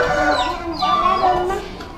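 Chicken clucks and squawky calls repeat over a couple of seconds, fairly close, with a busy background murmur.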